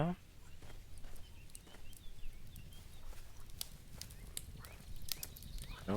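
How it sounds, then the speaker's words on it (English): Hooves of horses in the video game Fishing Planet clip-clop at a walking pace over a steady outdoor ambience, with a few brighter clicks scattered throughout. "Just some horses."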